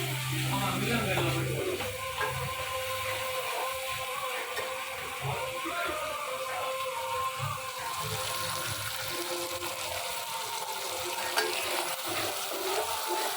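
Masala for fish curry is stirred and sautéed in a pan, giving a continuous close sizzle with scraping stir strokes throughout, fairly loud and steady.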